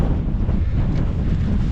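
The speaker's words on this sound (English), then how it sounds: "it's really windy today" Strong gusting wind buffets a microphone with a wind muff on an open, remote Northumberland hillside, producing a constant heavy low rumble with no other sounds.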